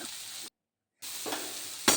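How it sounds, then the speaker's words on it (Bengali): Chopped tomato, green chilli and ginger sizzle in a pan while being stirred, with a steady frying hiss, an abrupt silent gap in the middle, then a sharp scrape near the end. "প্রথমে টমেটো কাঁচা লঙ্কা আদা কুচি এগুলি দিয়ে একটু ভালোভাবে নাড়াচাড়া করে নিতে হবে"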